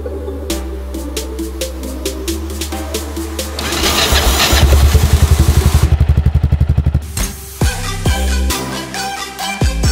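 A Yamaha XT660 motorcycle engine revs up and chugs in a fast rapid pulse for several seconds, loud and close, amid clattering and tonal background sounds.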